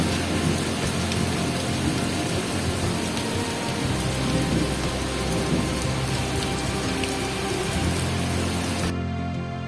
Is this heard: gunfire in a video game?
no